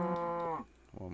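Cows mooing in the Minecraft video game, one long drawn-out moo close by, followed by a short quieter low call after a pause.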